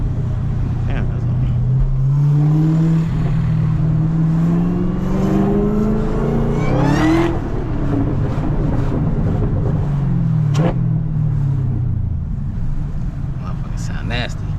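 A Chevrolet Camaro ZL1 with a 6-speed manual revs and rises in pitch repeatedly in a small town, loud and close, with wind buffeting the microphone throughout.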